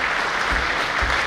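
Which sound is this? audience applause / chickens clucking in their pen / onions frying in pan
audience applause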